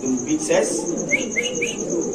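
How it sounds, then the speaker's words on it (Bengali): Spanish pigeons offered for sale at a market coo softly nearby, with a few short chirping notes over a steady background hum and a voice murmuring. "এখানে আছে এক প্লেট স্প্যানিশ কবুতর"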